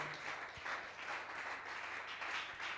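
A church congregation applauding loudly for the Lord, heard as a faint, continuous wash of many hands clapping in a large room, with an occasional low thump.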